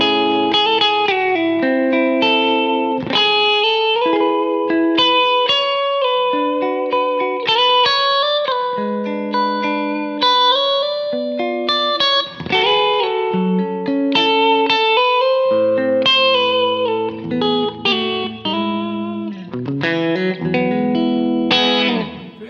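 A distorted Les Paul electric guitar with double humbucker pickups plays a melodic riff with sustained notes and chords, warm and thick, with effects adding shimmer, alone without voices.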